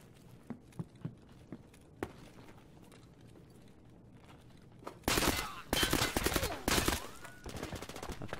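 AKM rifle fire in Escape From Tarkov: scattered single shots early on, then loud sustained bursts of automatic fire up close near the end.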